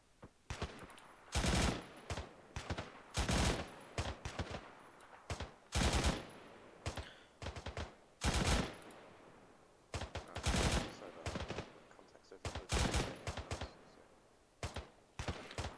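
Bursts of machine gun fire from a bipod-mounted gun in the ArmA 3 video game, loud and close, repeated strings of rapid shots with short pauses between volleys across the whole stretch.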